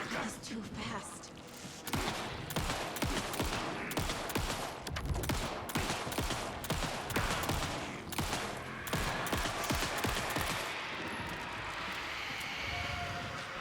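Gunfire in Alan Wake 2, a dense run of rapid, loud shots packed together for most of the stretch, then easing off into a lingering rumble of game ambience.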